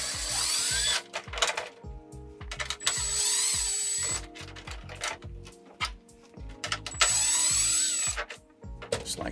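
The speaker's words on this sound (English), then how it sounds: "So let's back out all the screws." Cordless power drill backing screws out of a metal rack on an RC truck, three loud whirring bursts of about a second each, separated by clicks and handling clatter, heard close up.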